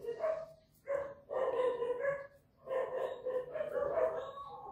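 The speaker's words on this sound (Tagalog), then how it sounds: "Ang daming aso." Several dogs bark in overlapping bursts, fairly close and steady, with short gaps between volleys.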